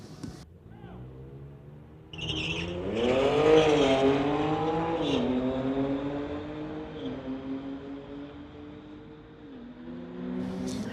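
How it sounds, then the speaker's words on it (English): Street-legal drag race cars, a BMW among them, launching and accelerating down a quarter-mile strip; a loud engine roar swells after a quiet start and holds with rising and falling revs, heard from a moderate distance. "Naidu well and truly clearing the BMW"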